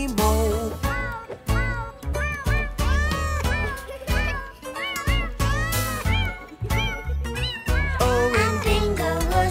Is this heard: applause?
no